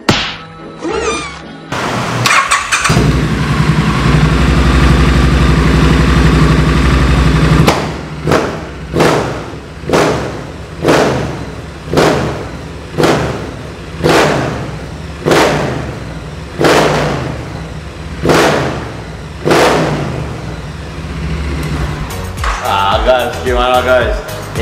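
A Triumph Street Scrambler with its stock upswept exhaust starts up and settles into a steady idle, then is revved repeatedly in a regular series of sharp, loud blips, heard close with no talking over it.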